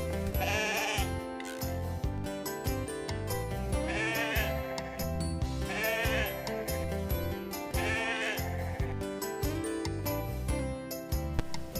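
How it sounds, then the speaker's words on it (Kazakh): Sheep bleat repeatedly over a bright, rhythmic music track that plays throughout. "Қой маңырайды."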